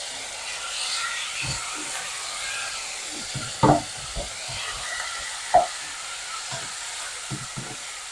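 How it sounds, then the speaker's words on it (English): A steady soft hiss and sizzle of steak and other meat frying in a pan, with occasional clicks and scrapes of a utensil stirring. "So I'm frying the meats."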